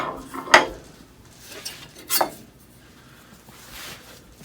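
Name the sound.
gentle scraping of a wooden hand plane's surface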